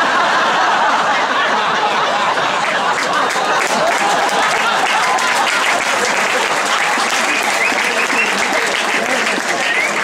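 Live audience at a Folkemødet 2014 political debate event applauding steadily and loudly, a dense wash of clapping throughout with scattered laughter mixed in.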